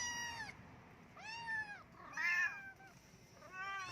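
Several distinct meows from Sweetie, a mother cat, come in four separate calls of about half a second each, fairly close and clear, over a low background hum with no voices.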